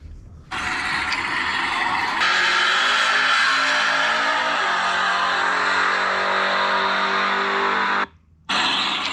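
A nitrous-equipped Mustang pulls away with a loud, sustained engine roar that starts abruptly, climbs in pitch through a gear, holds steady, then cuts out briefly near the end before resuming.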